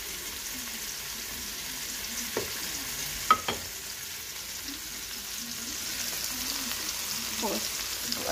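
Ketchup is stirred into a sweet and sour sauce for tilapia in a frying pan. A soft, continuous sizzle carries a few sharp scraping knocks from the utensil, and a murmuring voice drifts faintly underneath.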